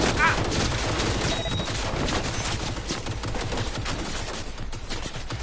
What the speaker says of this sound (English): Let the turret kill the other turrets.